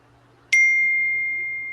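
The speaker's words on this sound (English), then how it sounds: "Someone keeps getting notifications." A single loud, bright notification bell dings once and rings out with a long, slowly fading tone against near silence.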